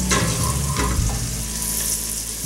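Butter melts in olive oil in a pan for potato leek soup, giving a steady, close, loud sizzle with small crackles throughout and no voices.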